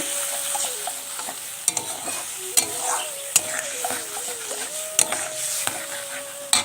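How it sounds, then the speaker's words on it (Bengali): Tamarind is stirred slowly in a hot cooking pot, with a spoon scraping and clinking in irregular knocks over a soft frying sizzle and a faint wavering hum, close and fairly quiet, with no talking. "এবার দেখো আস্তে আস্তে করে কিন্তু তেঁতুলটা নেড়ে নেব।"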